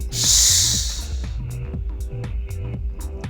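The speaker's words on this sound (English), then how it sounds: "I'm inhaling right here, exhaling" Breathing during a yoga crunch in an energizing flow: one strong, close inhale-exhale rush of air at the start, followed by a steady series of short, rhythmic breath pulses.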